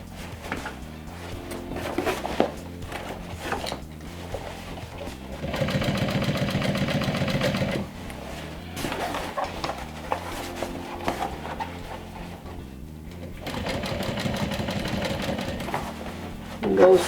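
A sewing machine top stitching a small backpack whirs in two or three short, steady runs at a slow pace, with a person talking between and over the stitching.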